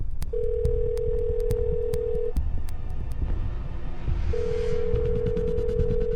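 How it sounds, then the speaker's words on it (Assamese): An unanswered telephone call rings out as a steady ringback tone: two long, even tones separated by a pause, over faint background rumble. "ফোনটোৱে উঠোৱা নাই দেখোন"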